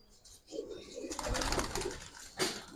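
A female Giribaz pigeon coos in a few soft, short bursts nearby, with faint background noise and a brief burst of handling or wing sounds.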